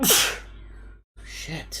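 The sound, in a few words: sneeze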